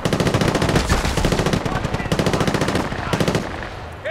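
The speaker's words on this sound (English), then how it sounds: "Where are you shooting me from?" Rapid automatic gunfire from the video game Battlefield Bad Company 2, loud and continuous in dense bursts for about three and a half seconds, then dropping off abruptly at the end.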